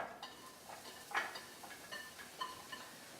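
Chopped onions, garlic and green pepper drop into a preheated pan, giving a faint scatter of light clatter and soft ticks with a low sizzle beneath, no talking.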